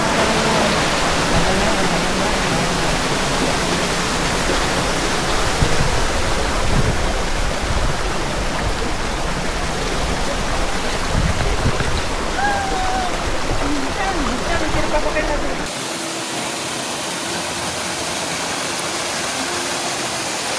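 The waterfall beside Jaibai Temple at Ozarde near Pune pours in a broad, steady roar close by, dropping to a slightly softer rush near the end.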